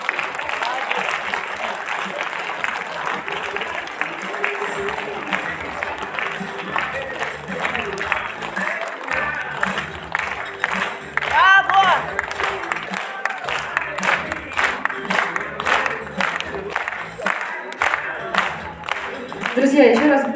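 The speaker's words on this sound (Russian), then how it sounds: "еще раз бурными аплодисментами, вашими овациями искупаем наших артистов" Sustained audience applause for performers at a club concert, a dense steady patter of many hands filling the hall for a long stretch, with a voice speaking over it.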